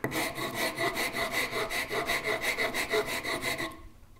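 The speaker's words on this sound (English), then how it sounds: "This does produce nicer shavings than the Shinto rasp" A rasp files a piece of wood in steady back-and-forth strokes, about a dozen rhythmic rough scrapes close up, stopping abruptly near the end, with no talk.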